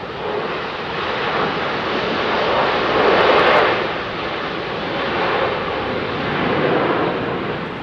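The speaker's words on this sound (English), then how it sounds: "Big old brute in it, the 777." A Boeing 777 airliner passing at Heathrow Airport, a loud broad engine roar that swells to a peak midway, then holds steady without fading out.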